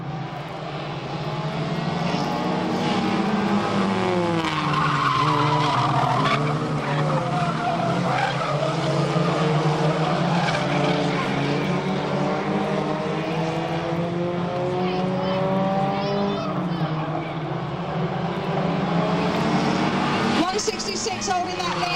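Race cars lapping Fleet Raceway, engines droning steadily with rising and falling pitch as they pass, tyres skidding at times, while a commentator talks over the track noise throughout.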